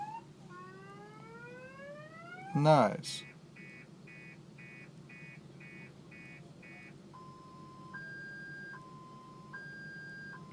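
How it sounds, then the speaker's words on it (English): A car alarm cycling next door, running through rising whoops, a string of evenly spaced repeated beeps, then a slow two-tone alternating warble, fairly distant, with a brief burst of a voice. "I didn't need an alarm. The car next door, it's on its 3rd cycle here."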